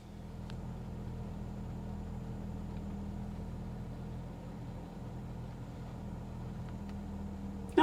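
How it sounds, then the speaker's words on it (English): A car engine idles with a steady, low, even hum heard from inside the cabin, constant and unbroken with no voices. "let's take a look at what it is when we start the car"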